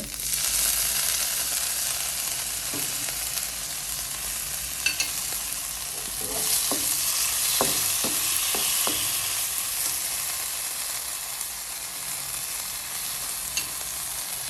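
Garlic and vegetables stir-fry in oil in a pan with a continuous loud sizzle, and a few clinks and scrapes of stirring fall around the middle. The sound is close and there is no talking.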